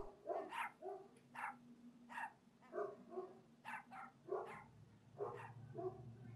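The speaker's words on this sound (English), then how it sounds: "Dogs." Dogs bark in a quick series of about a dozen yaps near a model-building workshop, faint and somewhat distant, coming in irregular clusters with short pauses.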